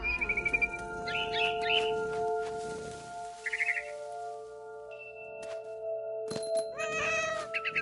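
In What Remains of Edith Finch, a cat meows and yowls in short bursts, with birds chirping nearby and a low tonal game soundtrack humming underneath.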